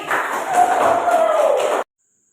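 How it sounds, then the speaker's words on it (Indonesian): A classroom group breaks into applause at the close of a lesson, a short burst of many hands clapping with some crowd noise, loud and even, then stopping abruptly into silence. "Tepuk tangan untuk kita semua hari ini."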